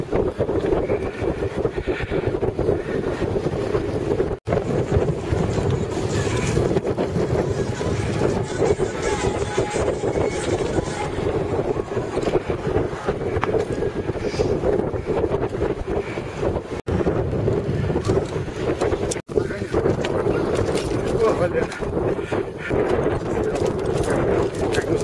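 Strong headwind buffets the microphone continuously while hiking through a desert wadi in the Central Negev, a loud, steady roaring rumble lasting throughout with gusty surges.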